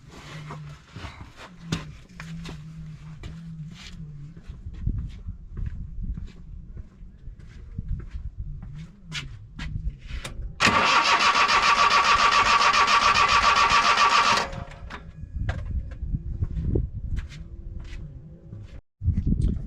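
Small engine of a 1993 Daihatsu Hijet mini truck cranks amid clicks and shuffling, then catches in a loud, steady roar of about four seconds before cutting out, followed by scattered handling noises.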